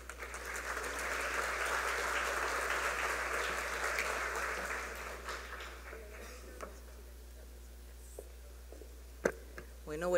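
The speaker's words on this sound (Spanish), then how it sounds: "Vamos a recibirla con un fuerte aplauso." Applause from a seminar audience in a hall, steady and moderately loud for about five seconds, then thinning into scattered claps and fading out, with faint murmurs afterward.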